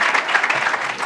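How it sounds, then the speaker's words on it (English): An audience at a women's financial independence event gives a short burst of applause, a dense, steady patter of many hands lasting about a second, close and loud. "Please, we have to clap for her."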